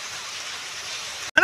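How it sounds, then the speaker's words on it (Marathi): Outdoor monsoon rain falls steadily over rural farmland, a dense even hiss that holds for over a second before a brief silence and a voice cutting in at the end. "खरंच पाऊस आला का?"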